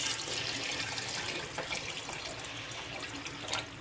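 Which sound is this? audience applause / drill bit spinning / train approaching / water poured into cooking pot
water poured into cooking pot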